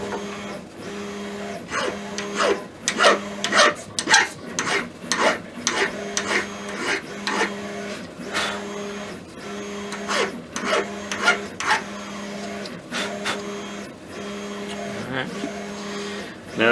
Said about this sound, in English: file some more off this one